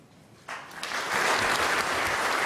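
After François Hollande's first speech as president, a large crowd breaks into applause that starts abruptly and swells into a broad, sustained roar of clapping.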